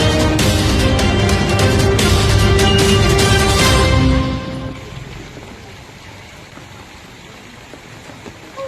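Heavy monsoon rain during the first downpour of Sawan in Indri, a loud, dense roar of falling water for about four seconds that then drops to a softer, steady hiss.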